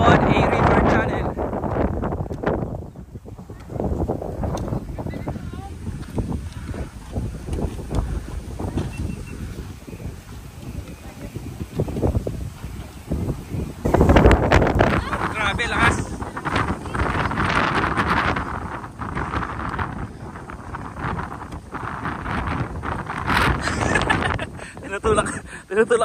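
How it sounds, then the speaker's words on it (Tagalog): Strong wind buffets the microphone during a river-channel crossing at Mt. Pinatubo, rough gusting roars that swell and fade over nearly half a minute while people shout and talk over it. "Lakas sa hangin talaga!"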